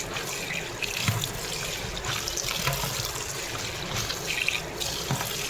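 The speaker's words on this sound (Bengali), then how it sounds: "আমি ধুয়ে নিই ভালো করে, নাইলে একদম পুরো বালি বালি থাকবে" Leafy greens are rinsed under running water, with a steady faucet stream splashing and trickling while leaves are handled, producing soft irregular splashes at moderate level.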